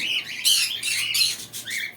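Pet birds in a shop, cockatiels, budgies and lovebirds, chirp in quick bright overlapping bursts, near and fairly loud with brief gaps, no talking.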